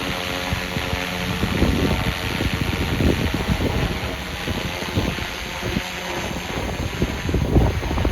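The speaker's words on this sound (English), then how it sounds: "Very windy." Strong wind buffets the microphone steadily at an RC helicopter flying field, with gusting roar and rumble throughout and no voices.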